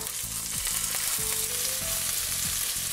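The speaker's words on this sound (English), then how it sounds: "Now the oil is hot. I'm gonna put these pieces straight onto the pan." Red mullet fish fillets fry in hot oil in a pan with a loud, constant crackling sizzle, close up and uninterrupted, with faint low clunks in the background.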